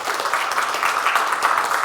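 An audience at a county social services presentation gives a round of applause, a dense, steady patter of many hands clapping close by for about two seconds with no voices over it.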